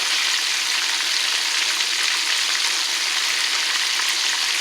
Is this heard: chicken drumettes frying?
yes